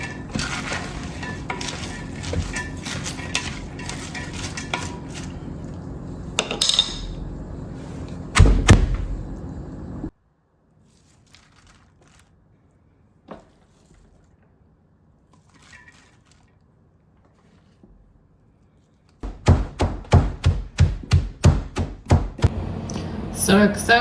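Cabbage being bruised and pounded in a crock for sauerkraut, with repeated thumping and crunching strokes that come in bursts, then a long near-silent gap before a quick run of rhythmic pounding resumes.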